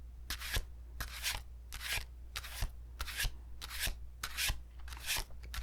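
A tarot card deck is shuffled in a soft, rhythmic run of papery riffles, about a dozen quick crisp strokes repeating steadily at close range against a low constant hum, with no talking.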